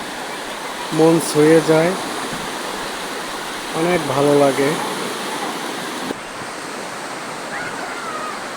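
Sea waves and wind at Kuakata beach make a constant rushing wash of surf, while people speak over it twice.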